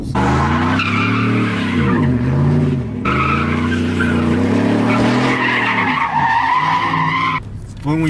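Chevy Silverado pickup swinging donuts, its engine revving hard and tires skidding and squealing in a continuous loud roar that rises and falls for several seconds.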